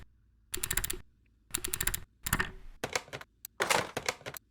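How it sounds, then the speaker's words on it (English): Rapid bursts of clicking from buttons pressed quickly in Car Mechanic Simulator 2021 while a junkyard Porsche 911 is stripped down: five dense clattering volleys separated by short pauses, close and fairly loud, with no talking. "Clicking buttons too fast."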